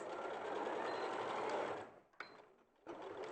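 A sewing machine stitches a straight line, running steadily and fairly loud for about two seconds before stopping, with a few short bursts and faint handling noises after.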